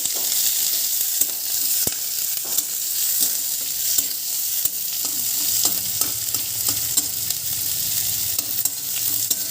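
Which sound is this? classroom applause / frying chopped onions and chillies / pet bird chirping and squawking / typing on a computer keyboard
frying chopped onions and chillies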